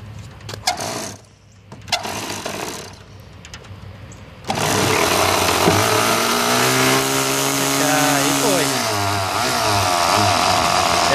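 A small model airplane engine catches at around four seconds and then runs loud and steady with a high buzzing drone that wavers in pitch, outdoors after some quiet background.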